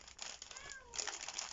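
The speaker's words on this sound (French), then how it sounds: "Ah, le chat qui fait savoir qu'il est là." A cat meows up close indoors, giving one short, faint, rising-and-falling call.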